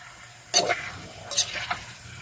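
Chicken and fish frying in a pan, stirred in two distinct bursts of scraping and sizzling close by, with a quiet background between them.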